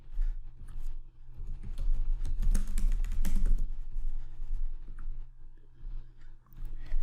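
Keys clatter on a computer keyboard as a search term is typed into a library database search bar, a steady run of close, crisp clicks with a busier burst in the middle and no talk.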